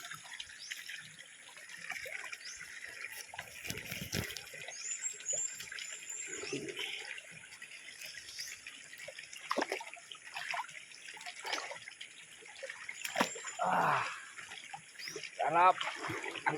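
Warm bath water running and trickling, with irregular splashes and drips at close range, a voice talking over it, and scattered bumps and knocks.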